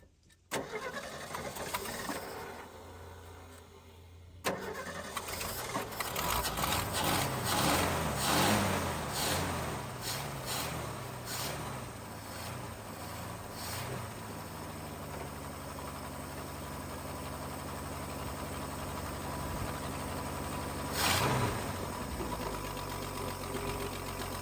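A car engine cranks and catches, revs briefly as the gas pedal is pumped, then settles into a steady, continuous idle that runs close and alone for the rest of the stretch.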